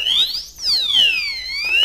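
Anti-theft alarm padlock on a motorcycle going off close by, a loud piercing electronic siren that sweeps up and down in rapid repeating wails.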